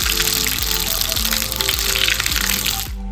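Whole cumin seeds hit hot oil already holding cardamom, cloves and cinnamon, giving a loud, close, steady sizzle with rapid crackling pops that cuts off abruptly at the end.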